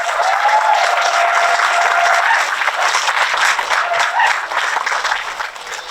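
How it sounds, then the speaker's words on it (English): An audience at an elementary school grand opening celebration breaks into steady applause, a dense, even wash of clapping from a sizable crowd that tapers off near the end. "Let's have a round of applause."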